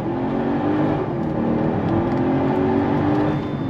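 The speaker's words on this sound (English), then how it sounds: "Fast shifts from that 7-speed automatic transmission." Mercedes-Benz SL550 from 2009 with its V8 pulling hard under full throttle, a steady loud engine roar holding for a few seconds with its pitch rising and stepping through fast shifts of the 7-speed automatic.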